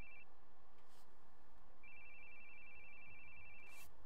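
A phone rings in the horror video game The Boogie Man, a quiet electronic ringtone sounding in two bursts with a pause between them, over faint background noise.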